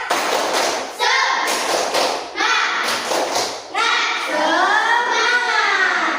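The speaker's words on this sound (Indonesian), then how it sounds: "Tepuk semangat." A class of children at school performs a rhythmic spirit clap, with sharp clapping bursts in a patterned beat mixed with their chanting voices and a teacher's voice.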